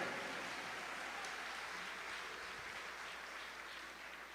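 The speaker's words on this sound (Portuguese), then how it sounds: "Quem recebe, aplauda ao Senhor." A church congregation applauds in a steady, dense wash of clapping that carries through the whole stretch, slowly fading a little toward the end.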